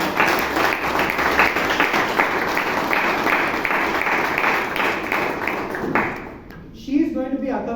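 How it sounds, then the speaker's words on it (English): A Toastmasters meeting room breaks into a round of applause, quick close clapping from a modest group that fades after about six seconds into a few scattered claps and a voice. "Let's give her a round of applause."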